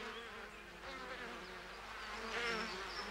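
Several wasps buzz around their nest of small paper cells made from chewed dead wood, a close, continuous droning hum with wavering pitch and no voices.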